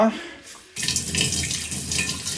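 Tap water runs steadily into a container being filled, starting abruptly after a short quiet moment with a faint voice and continuing as a close, loud, even rush.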